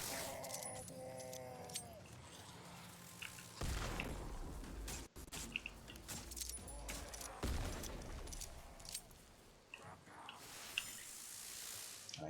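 Pistol shots in Nightingale, several sharp cracks spread irregularly across a busy, noisy game soundscape, fairly faint overall with other clattering effects between them.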